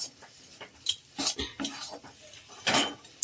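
Spoon stirring a broccoli filling in a pan off the heat: a string of close scraping clinks and light knocks, irregular and moderately loud, with no voices.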